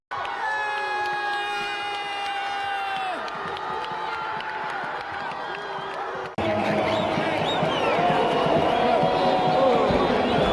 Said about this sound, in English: As he scored that goal, you could absolutely feel the eruption of the crowd